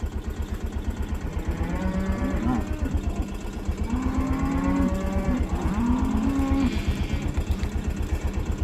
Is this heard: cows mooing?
yes